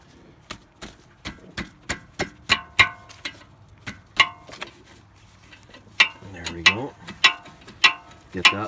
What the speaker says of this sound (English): we're gonna use this to undo the two bolts at the back of the caliper